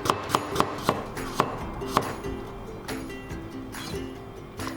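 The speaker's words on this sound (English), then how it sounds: "I want to make very thin strips of cucumber, so let's make very thin slices of cucumber." A knife cuts diagonal thin slices of cucumber on a cutting board, six or seven crisp, evenly spaced chops up close, then softer scraping and shuffling.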